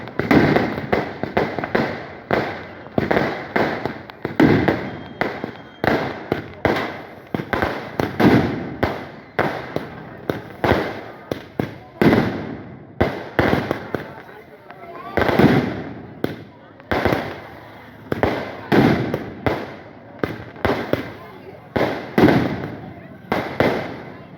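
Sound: fireworks at a village temple festival

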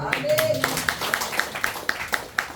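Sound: audience applause

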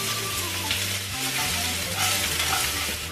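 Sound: onion and garlic frying in a pan

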